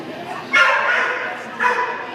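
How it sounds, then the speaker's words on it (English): Two sharp, high-pitched dog barks, the second following about a second after the first, fairly close and loud. "So I hear that pitchy barking"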